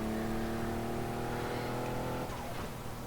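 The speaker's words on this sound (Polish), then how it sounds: "Ale ładnie brzmi ta Porszawa. Posłuchajcie, to turbo." A Porsche turbo engine in a driving video game set on Japanese highways drones loudly and steadily, with a sustained growl and engine harmonics that shift near the end as the revs change.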